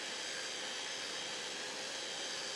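A Parkside burnishing machine with a spinning sanding brush working a piece of pine, giving a steady, loud, unbroken whirring hiss that stays even from start to finish with no talking.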